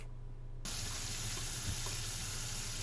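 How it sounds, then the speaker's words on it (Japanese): Green yuzu rinsed under running tap water at a kitchen sink, a steady close splash and gush that starts abruptly after a short quiet moment and continues alone. "柚子を洗います。"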